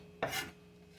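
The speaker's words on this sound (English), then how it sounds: "So I'm just chopping this basil and getting my fingers out of the way" A knife makes one short, close rasping stroke through fresh basil on a kitchen cutting board, standing alone against a quiet room.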